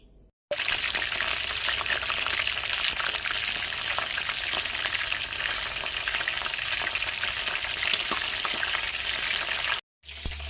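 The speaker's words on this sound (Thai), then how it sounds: "เดี๋ยวจะต้องเอากุ้งมาชุบแป้งนี่ มาชุบแป้ง แล้วทอด" Batter-coated shrimp deep frying in hot oil, a steady loud sizzle and crackle that runs unbroken for about nine seconds after a brief quiet start, then cuts off near the end.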